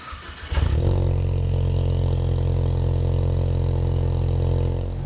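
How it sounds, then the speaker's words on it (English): A Ford Mustang EcoBoost fitted with an MBRP Street cat-back exhaust fires up and settles into a deep, steady idle, close and continuous with no talking. "Now let's see how the MBRP Street sounds."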